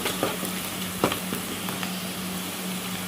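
Ginger garlic paste frying with onions and green chillies in a pan for an Andhra-style fish curry. A dense, continuous sizzle fills the clip, broken by a few soft stirring knocks, with no voices.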